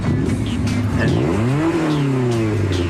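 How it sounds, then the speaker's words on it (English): A modified Honda Civic engine revs loudly and close by, its pitch sweeping upward then settling, with a brief tire-squeal-like whine over a rough steady roar. "So fire up this souped-up machine."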